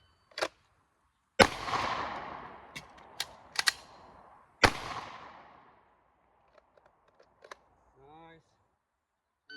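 A .44 Magnum lever-action rifle fired outdoors, several loud sharp reports with ringing decay spaced a second or two apart, plus softer mechanical clicks and a brief voice near the end.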